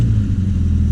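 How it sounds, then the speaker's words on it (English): Warm Triumph Spitfire engine idling and revving unevenly, a steady close low rumble with slight irregular surges throughout, no voices. "if I rev this, or turn it on, you hear how it's kind of revving weird"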